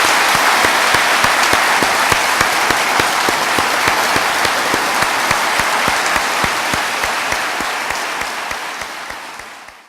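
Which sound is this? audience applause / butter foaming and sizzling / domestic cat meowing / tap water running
audience applause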